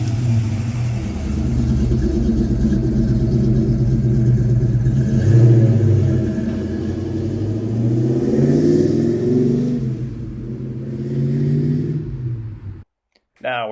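A 1983 Ford Mustang Foxbody with freshly installed rear shocks drives on a test run, a steady low engine rumble and road noise heard from inside, rising slightly as it accelerates, then cutting off near the end.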